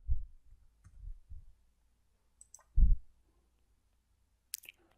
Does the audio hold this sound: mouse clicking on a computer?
yes